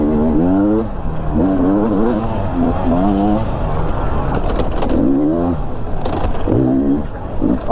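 A 2022 Beta 300 race-edition enduro motorcycle on a test ride, its engine loud and close as it revs up and down in repeated surges with a gruff low-end throb.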